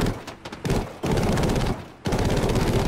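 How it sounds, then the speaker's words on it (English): Spitfire machine guns in Battlefield 5 rattle in rapid, loud bursts, with several sustained volleys broken by brief pauses, close and dense, with no voices. "I love these guns on the Spitfire."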